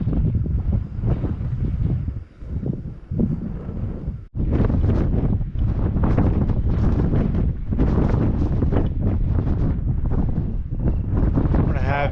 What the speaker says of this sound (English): This wind it's not wanting to let up.